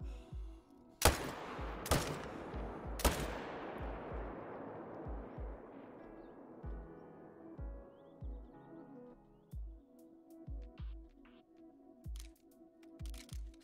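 Three sharp, loud rifle shots about a second apart, each rolling off in a long echoing tail, fired at wild yaks while hunting in Call of the Wild's Sundarpatan reserve; quieter ambient sounds follow.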